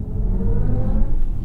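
Synthesized sport-mode drive sound by Hans Zimmer in a 2024 BMW i5 electric car, a steady low rumbling hum that swells slightly as it accelerates, continuous and fairly loud with no talking.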